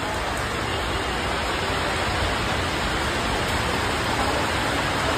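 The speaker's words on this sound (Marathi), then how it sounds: "अख्खा दुकानात पाणी पडतं" Rainwater pours into a shop in a dense, unbroken roar of falling water, loud and steady throughout with no voices.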